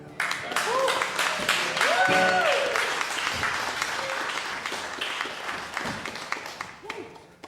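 An audience applauds after Zach King's performance of The Blue Juniata, dense sustained clapping from a crowd that fades toward the end, with voices speaking over it.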